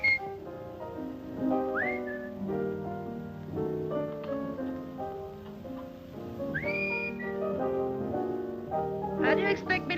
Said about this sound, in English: How do you expect me to whistle through a toothache?